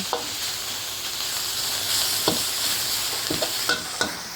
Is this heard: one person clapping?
no